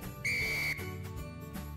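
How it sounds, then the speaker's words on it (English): A referee's whistle signalling a rugby try gives one long, loud, steady blast of about half a second, then cuts off, leaving a low murmur of background sound. "Arms straight above the head with whistle long and loud."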